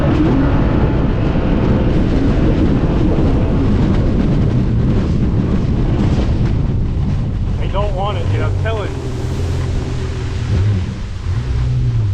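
Strong wind buffets the microphone in a constant roar, with a Sea-Doo RXP personal watercraft motor droning underneath and a brief whining engine rise near the end.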